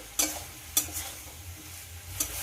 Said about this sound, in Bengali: যতক্ষণ না আদা রসুনের কাঁচা গন্ধটা চলে যায় ততক্ষণ কষিয়ে নিতে হবে।